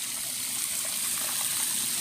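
Water runs steadily into the tub of an electric fish scaler, a continuous broadband gush and trickle that holds at an even level throughout.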